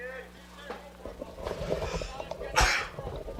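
A single sharp sneeze bursts out near the end of a brief stretch of background murmur and faint talk at a college baseball game.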